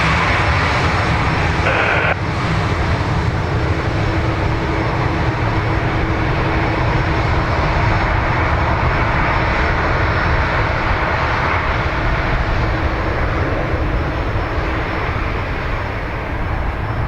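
A Ryanair jet airliner landing at Dublin Airport, its engines giving a loud, sustained broadband roar that stays steady for the whole stretch.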